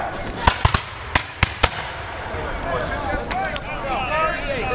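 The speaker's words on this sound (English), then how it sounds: "Fire at will! Fire at will!" Musket shots ring out at a Revolutionary War battle reenactment at Guilford Courthouse, several sharp cracks in a ragged sequence over the first second and a half, loud and nearby against wind noise, with shouting voices underneath.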